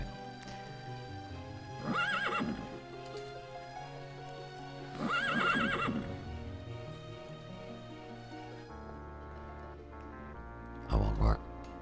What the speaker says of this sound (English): There's one impatient horse.